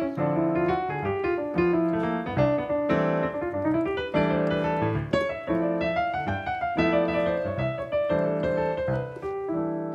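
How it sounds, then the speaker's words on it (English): A jazz piano solo built on upper and lower neighbor notes runs as a dense, busy flow of right-hand lines over chords, steady and fairly soft with no talk. "one of the most important techniques is called the upper and lower neighbor technique, and it sounds like this."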